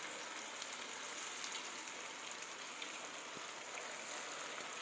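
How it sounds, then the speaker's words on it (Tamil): Rice-flour murukku dough frying in hot oil over a medium flame, giving a steady, close hiss and crackle that holds evenly throughout with no talk. "நம்ம மாவை பிழிஞ்சதுமே எப்படி சலசலன்னு சத்தம் கேட்குன்னு பாருங்கள்"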